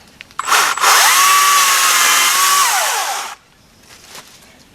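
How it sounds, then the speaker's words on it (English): Close, loud whine of a Greenworks 24-volt battery chainsaw cutting through a stub while clearing brush, running steadily for a couple of seconds before stopping abruptly. "we're actually going to cut out with the chainsaw and see how that works"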